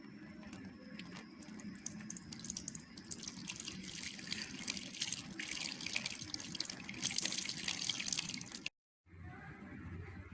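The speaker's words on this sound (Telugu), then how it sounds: "ఒక కాటన్ క్లాత్లో కొద్దిగా పాలన్నీ పోసుకుంటూ ఉండాలండి." Curdled milk is poured through a cotton cloth to strain paneer for Bengali rasgulla, making a soft, steady liquid patter and trickle at close range that carries on for several seconds before a brief pause.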